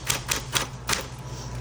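Keys struck on a 1970s Coronet Super 12 manual typewriter, four sharp clacks at a steady, unhurried rhythm, close and fairly loud, with a brief quiet stretch after the last strike.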